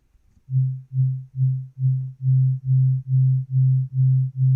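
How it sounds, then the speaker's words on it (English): A pure low sine-wave synth tone, modulated by an LFO, pulses in ten even, swelling beats, each throb rising and fading in a steady wobble against silence. "I do sine wave, and then you could do an LFO, kind of like this"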